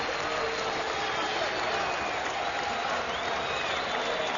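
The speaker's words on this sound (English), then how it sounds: "And the crowd showing its appreciation." A boxing arena crowd applauds and cheers at the end of the Antonio Margarito versus Joshua Clottey fight. It is a dense, unbroken roar of clapping that holds steady throughout.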